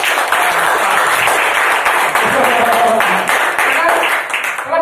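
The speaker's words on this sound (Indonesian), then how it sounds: "Oh, tepuk tangan buat kalian." An audience at an insurance sales talk claps together, sustained dense applause close by with voices mixed in.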